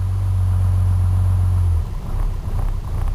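A car engine running after an upper radiator hose repair, a loud steady low idle drone close by that abruptly drops in tone partway through, then settles into a rougher, uneven idle.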